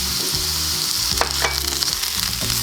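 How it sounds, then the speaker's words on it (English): White onion fries in a pan with vegetables, giving a steady close sizzle with faint stirring scrapes and no talking. "So I'm gonna add some white onion."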